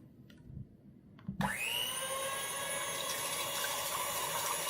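An electric hand mixer starts abruptly after a quiet moment and then whirs at a steady high pitch as it whisks four eggs in a bowl, close and continuous.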